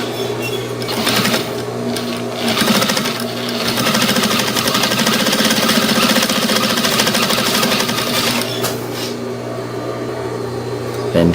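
A sewing machine fitted with a bias binding foot runs steadily at speed, with a loud, close mechanical whir and rapid needle chatter that holds for most of the stretch before slowing at the end.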